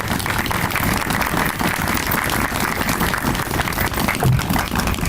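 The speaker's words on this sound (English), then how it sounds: "leave them today with a rousing round of applause" A crowd at an outdoor Veterans Day ceremony gives a rousing round of applause, dense steady clapping that holds at an even level throughout.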